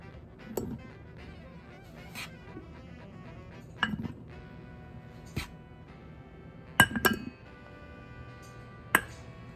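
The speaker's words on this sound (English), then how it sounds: "So my flour jar is empty, so I'm gonna refill it real quick." Flour being poured from a big bucket into a glass jar in a home kitchen, with a few sharp glassy clinks and taps scattered over a quiet background, loudest near the end.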